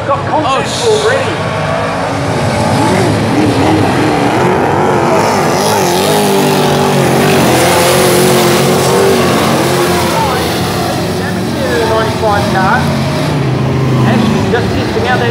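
Super saloon race cars roar off the start of a heat at Meeanee speedway, a loud sustained engine howl with revving swells and passing cars close by, while a commentator talks over the top.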